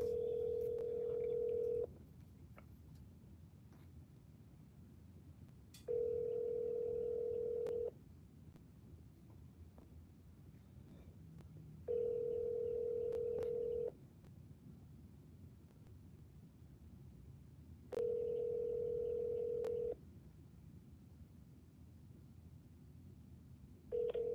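A telephone call being placed: a clean tone sounds in long bursts about every six seconds, with quiet line hiss between them, repeating four times alone with no voices.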